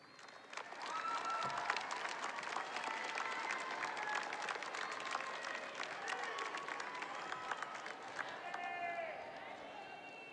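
A graduation crowd at a Manchester Central High School ceremony breaks into sustained applause and cheering for the families, a dense wash of clapping with whoops and shouts that carries on loudly throughout.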